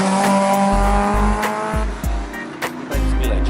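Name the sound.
Tesla chirping tires in second gear at race track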